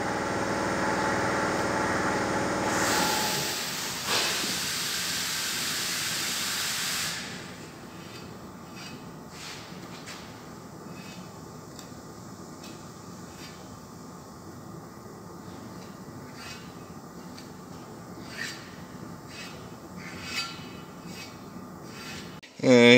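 Abrasive sanding of filler on a damaged aluminium alloy car wheel, a steady broadband rasping rub at close range for the first few seconds, then dropping to a quieter scratchy hiss with occasional light knocks.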